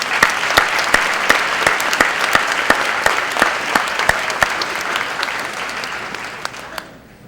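A sustained round of applause from the audience at a Black History luncheon, steady dense clapping with a few sharper claps standing out, fading away at the end.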